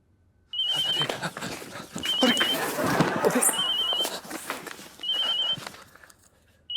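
A phone rings in repeated short electronic bursts, several rings spaced about a second and a half apart, with rustling and movement between them.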